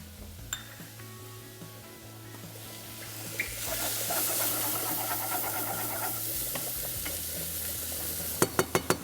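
Corn with finely minced ginger cooking in a pan, giving a steady soft sizzle and hiss with faint stirring, and a quick run of sharp clicks near the end, with no talk.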